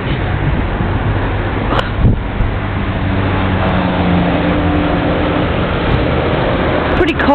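Steady traffic rumbles along a cold, damp city street, with a continuous broadband wash of passing vehicles, wind buffeting the microphone, and one closer car sweeping past near the end.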